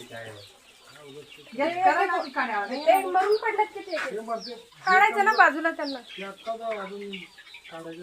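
Chickens on a poultry farm cluck and squawk close by, a busy run of calls that continues throughout while a person talks over them.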